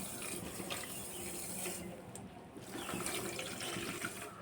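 Water runs and pours steadily into a cup of sugar to start a syrup for bread gulab jamun, a continuous splashing flow that dips briefly midway, close and alone.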